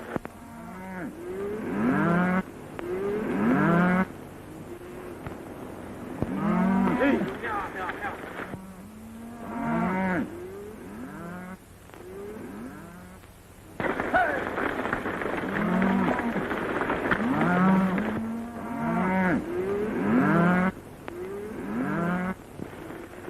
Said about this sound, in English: a nice bunch of cattle you're sending to market, Mr. Dawson.